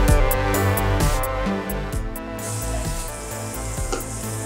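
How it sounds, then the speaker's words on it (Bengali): Spices sizzling in hot oil over medium-low heat while being sautéed for a loitta shutki and potato curry, a close, bright crackling fry with repeated stirring scrapes and clatters, no talking. "মিডিয়াম টু লো আঁচে রেখে মশলাগুলো কষায় নিচ্ছি।"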